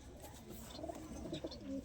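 Soft cooing of a green pigeon, a few low murmuring calls close by over a steady faint background hiss, with no talking.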